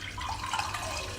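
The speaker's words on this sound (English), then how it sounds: "The water will come out from this tube." Water flows from the tube of a hydra facial spa machine, a faint, steady trickle and drip heard close, with no talk.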